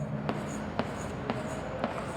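Chalk or marker taps and scratches on a classroom board while sketching gold-foil atom-model diagrams, four evenly spaced strokes over a quiet, faint room background, with no one speaking.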